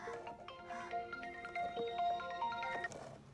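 A telephone rings in a Marathi village television serial, a steady electronic ringtone with repeated tonal phrases that sounds close and fairly loud, with no talking over it.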